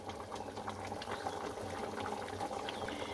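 Chana dal with coconut and hing bubbling thick in a pot, a steady close bubbling and gurgling that runs continuously without talk.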